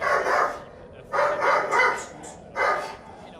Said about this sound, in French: Ce n'était que Luron, mon chien qui dormait au rez-de-chaussée. D'ordinaire, si silencieux, il n'aboyait presque jamais